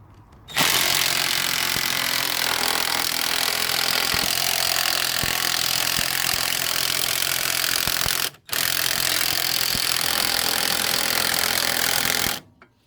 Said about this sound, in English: Okay, I got the drill on.